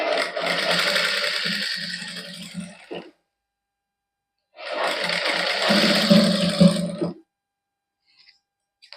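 A sewing machine runs in two sustained bursts of stitching, stitching net lace onto a sleeve, with a pause between and a few faint ticks at the end; no talk.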